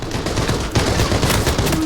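Rapid bursts of loud gunfire in the video game Arena Breakout: Infinite, continuous and dense, filling the short stretch with no talk.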